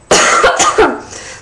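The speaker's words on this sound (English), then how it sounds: "I've got a really bad cough" A person coughs in a quick burst of three or four harsh, close, loud coughs, alone with no talk over them.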